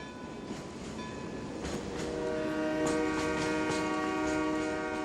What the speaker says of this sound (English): Daddy, Daddy, I hear the train.